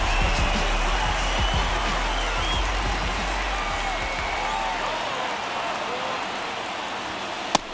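A large stadium crowd in MLB The Show 23, Tampa Bay Rays vs Minnesota Twins, keeps up a steady wash of cheering and applause under a commentator's voice, ending in one sharp crack.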